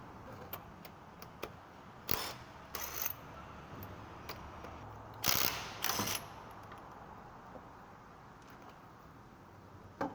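Removing the front wheel of a 2004 Honda Civic brings sharp mechanical clicks and ratcheting bursts, a few loud clusters spaced apart over a quiet background, like a wrench or impact tool working on the lug nuts.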